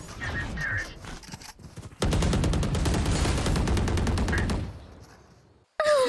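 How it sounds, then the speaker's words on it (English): Rapid automatic gunfire from a shooter video game rattles loudly for several seconds in a dense burst, preceded by quieter game sounds and shorter shots, then cuts off abruptly. "My teammate is trying to shoot me."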